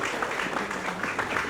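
Teachers at SMP Negeri 21 Palembang, gathered at an indoor school event, break into dense, steady applause that holds at a moderate level for the whole moment, with faint voices mixed into the crowd noise.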